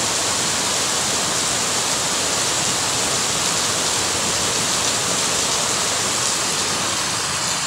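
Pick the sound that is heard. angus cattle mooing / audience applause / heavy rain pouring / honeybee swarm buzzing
heavy rain pouring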